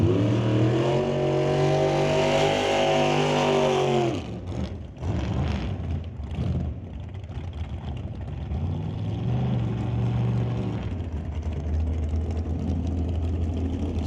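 Drag racing cars roar at full throttle in the water box during an NHRA Summit ET Series Super Pro event at Mission, a loud harmonic engine howl for four seconds, then a crackling burnout rumble that settles into a steady deep idle-like drone.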